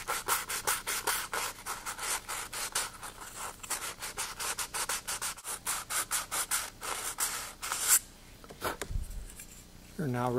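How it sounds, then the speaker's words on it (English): Sandpaper rubs by hand over raised spots inside a plastic Saturn V model rocket nozzle, a close, rapid series of rhythmic rasping strokes that stops near the end, followed by a few faint handling noises. "there are some raised areas that can be removed with a hobby knife and some sandpaper"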